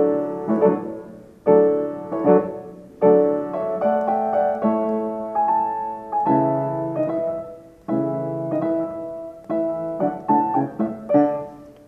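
Orchestra playing the trio section of Beethoven's Seventh Symphony, with sustained chords in a slow, broad pulse swelling and easing in phrases, full and resonant with no talking.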